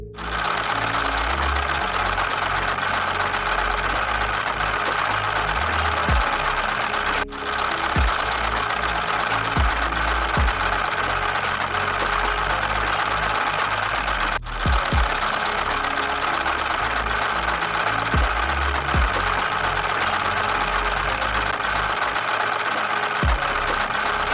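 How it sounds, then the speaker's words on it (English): An embroidery machine stitches a mylar design in a magnetic hoop, a loud, continuous rapid mechanical chatter close by, with two brief pauses along the way. "we're ready to start embroidering."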